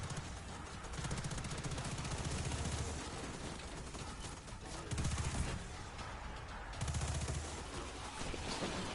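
Gunfire in Destiny 2's Gambit mode, sustained rapid bursts of automatic shots with heavier thumps recurring every couple of seconds, loud and continuous throughout.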